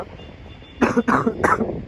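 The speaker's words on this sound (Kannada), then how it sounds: "ಮಧ್ಯದಲ್ಲಿ ಈ ಥರ ಕೆಮ್ಮು ಡಿಸ್ಟರ್ಬ್ ಮಾಡ್ತಾ ಇರುತ್ತೆ" A person with a fever coughing: three quick, close, harsh coughs in succession after a quiet start, with no talking.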